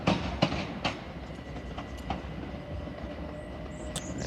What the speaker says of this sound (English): There she goes, applying the power.